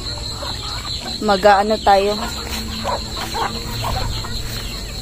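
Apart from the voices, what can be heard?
chickens clucking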